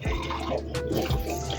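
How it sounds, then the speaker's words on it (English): Boiling water pours into a cup for coffee in a short gurgling stream, close up, with a splashy, bubbling fill. "I'm going to start it off with some boiling water to start dissolving."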